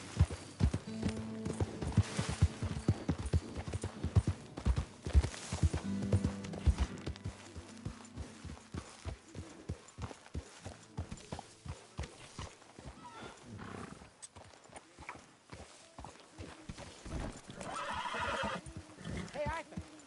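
Horse hooves clip-clopping at a steady trot with neighs and snorts in Red Dead Redemption 2, rhythmic and close, with game voices speaking over parts of it and ambient outdoor noise.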